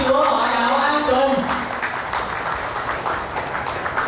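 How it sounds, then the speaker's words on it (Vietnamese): A church congregation claps steadily in a large room, a dense patter of applause that fades slightly, with a voice audible at the start. "Chúng ta cùng vỗ tay chia sẻ niềm vui chung với cộng đoàn dân Chúa họ Đạo An Tùng."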